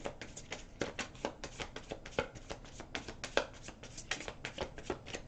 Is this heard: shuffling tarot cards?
yes